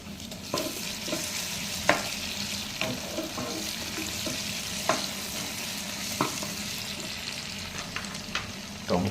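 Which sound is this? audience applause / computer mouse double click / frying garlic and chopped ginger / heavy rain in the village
frying garlic and chopped ginger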